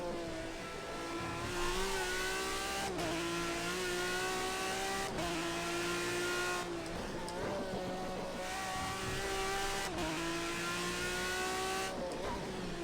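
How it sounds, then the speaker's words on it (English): Race car engine in Project Cars 2 during online racing, a loud, sustained high-pitched drone that climbs through the revs and drops sharply at each upshift, repeating in steady cycles with occasional tire noise. "This car sounds a little bit like a hose pipe if you listen carefully."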